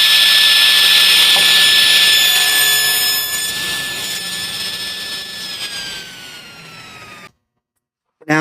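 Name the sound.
table saw ripping a workpiece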